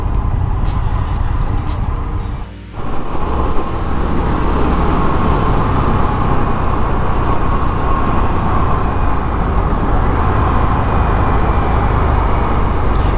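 Indian FTR 1200 naked motorcycle riding along a road, a continuous loud engine drone heavily mixed with wind rush, with one brief dip in level early on.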